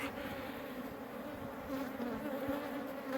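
Honey bees swarm around an open hive during a frame inspection, a dense, steady, close buzz that continues throughout with no talking.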